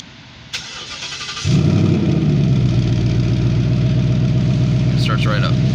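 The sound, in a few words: Ford Mustang GT engine starting via remote start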